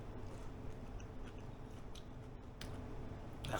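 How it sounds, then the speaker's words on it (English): Kimchi is bitten and chewed close to the mic during a spicy noodle challenge, giving soft, wet, squishy chewing with a few faint crunchy clicks. The sound is quiet and steady, with no talking. "So let's try some kimchi."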